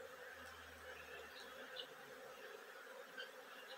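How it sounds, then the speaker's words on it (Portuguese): A steady insect buzz hums in the background, like bees swarming around the blossoms of a flowering jabuticaba tree, faint and continuous with no voices. "Olha as abelhas."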